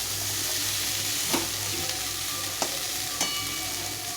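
Onions frying in a pan for a chickpea chaat snack, with a steady close sizzle running throughout and a few sharp stirring clacks of a utensil against the pan.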